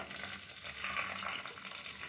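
Close, steady crackling sizzle of mustard seeds spluttering and popping in hot sesame oil, continuous for the whole stretch with no voices.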